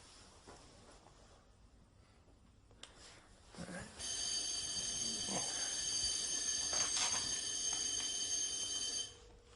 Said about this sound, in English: Fire alarm testing maintenance.